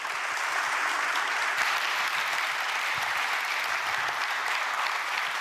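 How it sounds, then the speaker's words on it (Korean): Steady, dense applause from a large crowd, continuous and loud throughout without pauses. "박수 부탁드립니다."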